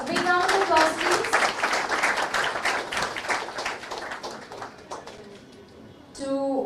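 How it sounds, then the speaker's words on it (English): An audience at a Bangladesh-Canada friendship celebration applauds during a crest presentation, brisk, distinct clapping from many hands over a voice at the start, tapering off before the voice returns. "A big round of applause, please"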